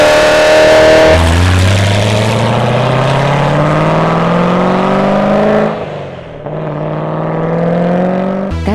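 A Hennessey Corvette Z06 tuned to 1000 HP revs hard and close up, its engine note climbing steadily in pitch through a long pull, dipping briefly, then surging again.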